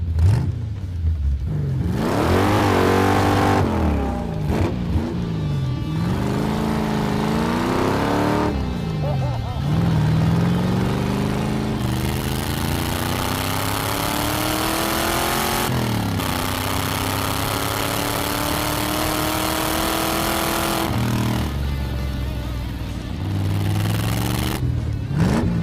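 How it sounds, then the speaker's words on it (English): A light go-kart built from a 1985 C4 Corvette accelerates hard, its engine climbing through repeated rising sweeps with brief drops between gears, loud and close, while people talk over it at times. "the go-kart is light, it is nimble, it accelerates good"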